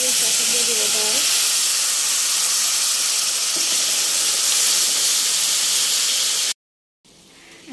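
Lentils tipped into hot oil with browned garlic give a steady, loud sizzling hiss that runs almost unbroken, a brief voice near the start, before cutting out and then returning faintly.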